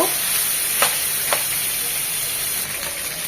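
Steady sizzling of cabbage stir-frying in a hot pan, with a couple of sharp spatula scrapes cutting through the constant hiss.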